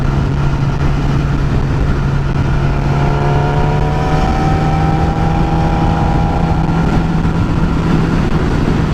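A motorcycle engine drones steadily and loudly at speed, with a constant low hum and rising tonal whine as the bike accelerates and banks through turns, no talking.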